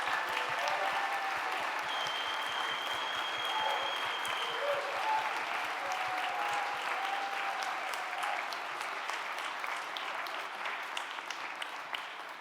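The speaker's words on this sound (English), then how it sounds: "Let's give one more hand of applause." A church congregation at a worship service claps in a sustained, even round of applause, with faint tonal notes sounding beneath the clapping.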